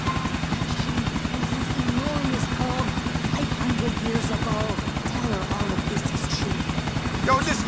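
Helicopter rotor thumps in the video game GTA 4 pulse rapidly and steadily throughout, with voices talking over the constant chopping drone.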